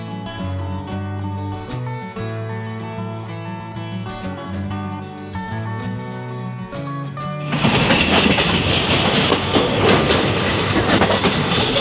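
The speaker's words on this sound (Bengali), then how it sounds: "আমাদের ট্রেন এসে পৌঁছেছে বর্ধমান জংশনে" A passenger train from Sealdah towards New Jalpaiguri is stopped at Bardhaman Junction station. A steady mechanical hum and rumble swells midway into a loud, dense roar of rolling train noise, close and continuous.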